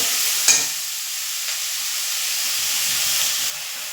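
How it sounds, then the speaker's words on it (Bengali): Shrimp and flat beans frying in a pan give a steady, close sizzle throughout, with a few scraping stirs of a utensil against the pan near the start and middle. "এটা হচ্ছে ভালোভাবে নাড়াচাড়া করে নেব"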